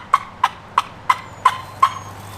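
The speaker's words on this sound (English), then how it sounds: "And I get him to gobble that way." A wild turkey calls in six short, sharp bursts at a steady, quick rhythm, fairly close and clear, with no talking.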